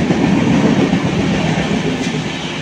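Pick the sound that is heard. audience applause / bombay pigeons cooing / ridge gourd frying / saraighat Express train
saraighat Express train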